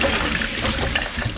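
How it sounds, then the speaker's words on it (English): Tap water runs steadily as broccoli and cauliflower florets are rinsed in a kitchen. The splashing is close and continuous, with no voices. "I've already washed this, but I'm just going to give it another rinse."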